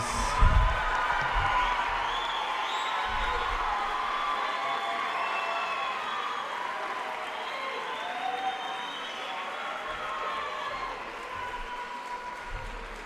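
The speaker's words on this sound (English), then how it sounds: "Let's give all our recipients a big round of applause." Sustained applause with some cheering from an audience at an eighth-grade moving-up ceremony, a steady wash of clapping for award recipients lasting the whole stretch with a few louder thumps early on.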